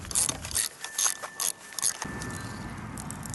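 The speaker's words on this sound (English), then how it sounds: "I can't get my impact gun that close to these bolts, so I'm gonna use my breaker bar." A breaker bar works loose some bolts with a few close metallic clicks and ratcheting bursts, then a short stretch of duller mechanical noise.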